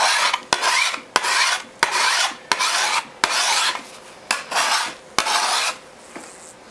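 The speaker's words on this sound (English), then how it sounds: "Filing this bevel in really helps me see if there are any mistakes that I missed" A wide file rasps along the bevel of a European scythe blade in a steady rhythm of about nine close, loud strokes, each a bright scraping sweep with a short pause and click between passes.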